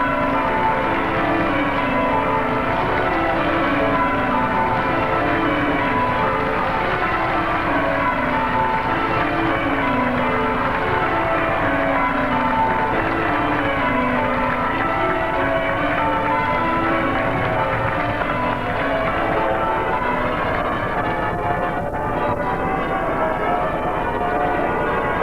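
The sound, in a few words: church bells ringing out in Sydney for the 1970 papal visit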